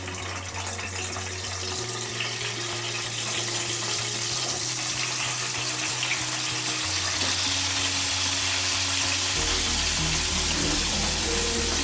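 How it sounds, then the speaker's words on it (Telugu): Cut bitter gourd pieces frying in hot oil for a spicy stuffed masala dish give a steady, close, continuous sizzle with a low background hum, unbroken for the whole stretch. "ఇప్పుడు మనం కట్ చేసుకున్న కాకరకాయ ఉంది కదా, ఆయిల్లో ఫ్రై చేసుకున్నాం."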